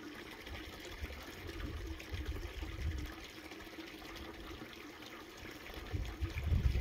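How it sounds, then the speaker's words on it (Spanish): Water trickles into a stone basin outdoors in the countryside, a quiet, steady running splash that swells slightly toward the end, with no talk over it. "¿Habéis visto cómo se llena la piedra de agua?"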